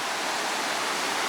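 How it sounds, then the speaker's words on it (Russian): The Assa river in mountainous Ingushetia rushes in a steady, loud, broadband roar of flowing water, close and unbroken, with no voices. "И река Асса."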